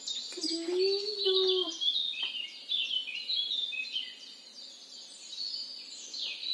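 Small birds chirp and tweet in quick, high-pitched bursts, fairly close, with a few brief lower tones at the start.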